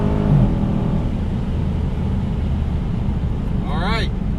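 A Dodge muscle car, a 5.7 RT, 6.4 Scatpack or 6.2 Hellcat, pulls hard from 60 to 130 mph, its engine a loud steady roar heard from inside the cabin, with a rising whine near the end.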